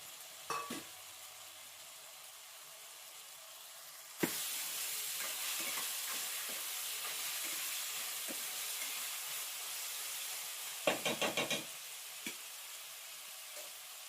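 Fresh rajma beans dropped into a hot pan, followed by steady sizzling and occasional stirring scrapes, with a burst of clattering near the end; no talking.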